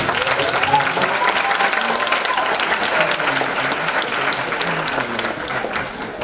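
Steady, full applause fills a high school graduation hall as the crowd claps for a teachers' federation, even and continuous from start to finish.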